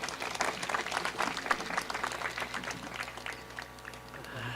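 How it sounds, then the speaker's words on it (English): An audience claps at a Catholic University of Eastern Africa graduation ceremony, a broad wash of applause from a large crowd with a faint voice beneath it, easing slightly in the final seconds. "Let's give a wide clap again."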